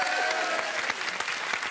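Applause from a French TV studio audience welcoming two guests onto a dating show set, a dense steady clatter of many hands filling the whole short stretch at moderate loudness.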